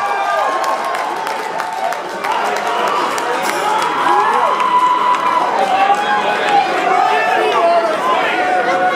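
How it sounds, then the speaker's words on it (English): Concert audience at First Avenue in the Twin Cities applauding and cheering during a show, a loud, sustained roar of claps and shouts filling the room with crowd chatter mixed in. "Give yourselves a large round of applause"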